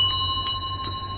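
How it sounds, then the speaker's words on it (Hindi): A loud bell rings inside a cave, three bright metallic strikes about half a second apart, each leaving a sustained shimmering resonance between hits. "तभी अचानक गुफा के अंदर तेज घंटी की आवाज गूंजी"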